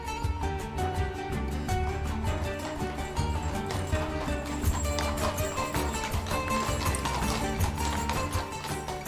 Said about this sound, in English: the sounds of the horses' hooves on the cobblestone street